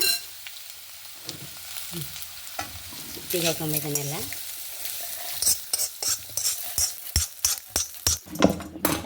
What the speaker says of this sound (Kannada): ಲಾಸ್ಟ್ಗೆ ಇದನ್ನು ಒಂಚೂರು ಹಾಕಿ ಒಂಚೂರು ರೋಸ್ಟ್ ಮಾಡಿಬಿಡುವ